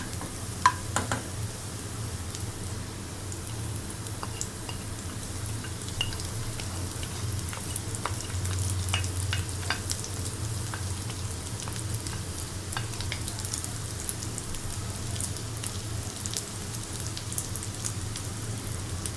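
Egg and chicken stir-fry with onion crackles and sizzles steadily in a hot pan, a continuous close frying hiss dotted with sharp spatter pops and occasional utensil scrapes, with no voices.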